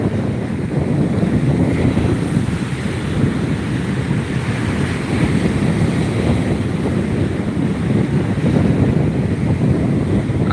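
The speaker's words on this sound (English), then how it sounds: "6 and 8 foot waves crashing this morning" Rough sea during a low-pressure dual typhoon disruption in Iloilo sends six- to eight-foot waves crashing, heard as a continuous loud roar of surf mixed with wind, steady throughout and without speech.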